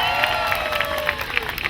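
A crowd at a steam-hauled circus train arrival cheers and claps for the crew, a brief dense burst of applause with whoops outdoors, loud and close.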